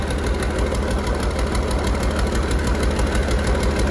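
A Yamaha Hino WO6B marine diesel engine, 230 hp at 2900 rpm, runs loudly and steadily nearby, with a dense rhythmic knocking throb and no voices.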